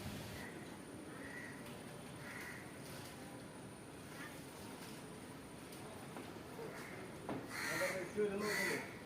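A male goat being rescued by a fire and rescue team bleats again and again, in short cries spread across the stretch and coming faster and louder toward the end. People talk in the background.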